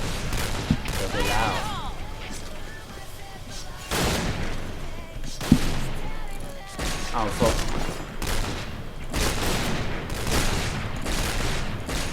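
WA2000 sniper rifle shots in the video game Point Blank, a series of sharp, loud single reports spaced a few seconds apart over a busy background of game noise.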